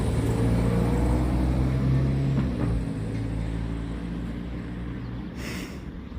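A loud car roars past nearby in an outdoor setting during car washing, its engine noise swelling and then fading away, with no talk over it.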